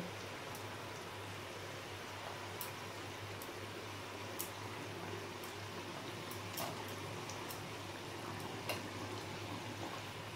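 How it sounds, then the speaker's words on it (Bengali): Shillong fish simmering in a mustard and poppy seed curry, a steady soft bubbling hiss with scattered small pops, fairly quiet and with no talking. "মাছগুলো দিয়ে আমি মিনিট 3-4 একটু ফুটিয়ে নেব"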